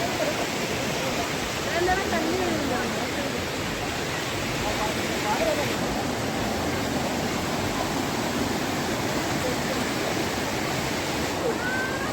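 Thommankuthu river rushing near the waterfalls makes a steady broadband roar of flowing water, constant and fairly loud, with no clear voices over it.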